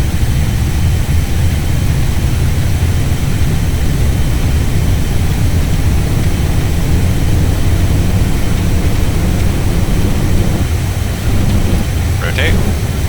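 A Boeing 737 Classic in X-Plane roars at takeoff power during a circuit at Portland, a loud, constant low-pitched jet rumble with a steady whine on top, while a voice speaks briefly near the end.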